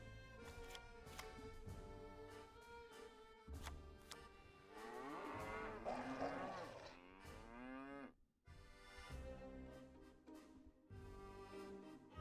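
Cows moo repeatedly in long, overlapping calls, fairly close and loud over a steady background, with a brief dropout partway through.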